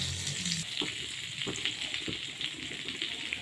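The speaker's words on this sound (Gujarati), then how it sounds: "મેં આવી રીતના લોખંડના તવાનો યુઝ કર્યો છે એક ચમચી ઓઇલ ઓઇલ નાખ્યું છે અને બીજું બટર ગરમ મૂકી દીધું છે" Oil and butter heating on an iron tawa give a steady bright sizzle and crackle, with a few soft knocks of a utensil against the pan.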